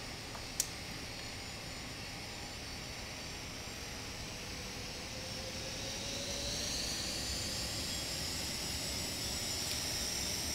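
QualityWings BAe 146 jet engines spooling to takeoff thrust in a flight simulator, a steady roar that builds with a rising whine after a brief click, without voices.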